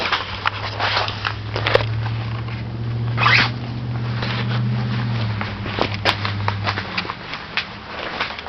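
A zipper drawn along the window of a vintage Eureka 10' x 15' two-room canvas cloth cabin tent, with scratchy rasping strokes and clicks close by, over a steady low hum.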